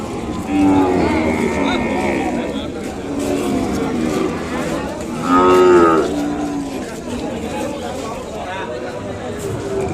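At a crowded Kodada cattle market, Ongole calves low in a few long moos, one early and a louder, rising call midway, while people talk nearby and a vehicle engine hums in the background.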